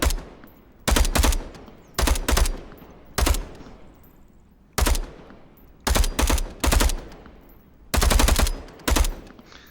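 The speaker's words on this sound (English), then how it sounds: "So I'll fire a couple rounds" Rifle fire from the VR tactical shooter Onward: short bursts of loud, close gunshots, several rounds each, repeated about eight times with brief gaps between them, no talking.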